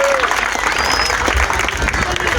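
Crowd at an outdoor football creative arts festival claps steadily, close and dense, with voices mixed in under the applause.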